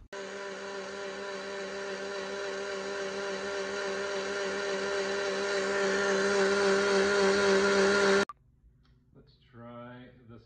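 A home blender whirs steadily for about eight seconds, blending home-grown peppers with vinegar into hot sauce, loud and rising slightly before cutting off abruptly, after which a voice speaks briefly.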